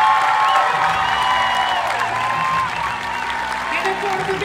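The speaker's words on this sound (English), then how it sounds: "So one more big applause for all these athletes." A large crowd at a cheerleading nationals competition claps steadily with scattered cheers, a dense wash of applause filling the space, while voices chatter faintly underneath.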